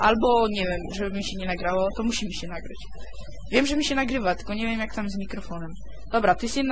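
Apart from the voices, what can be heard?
No everyday noise stands out behind the speech.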